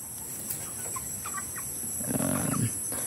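Palawan native chickens cluck in a rural yard, a few soft calls scattered at first, then a louder, fuller burst of clucking near the end over a steady high-pitched background hiss.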